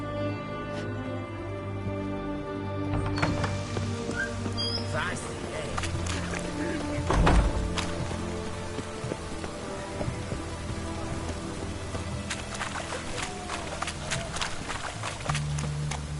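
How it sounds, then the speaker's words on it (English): Steady rain patters in The Witcher 3 over a continuous low hum, with scattered clicks and taps throughout while a voice talks over it. "It's raining. Of course it's going to be damp."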